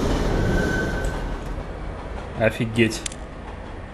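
A metro train rumbles past in the horror video game Underhell, a steady broad roar with a few sharp metallic bursts near the end, while a man briefly exclaims over it.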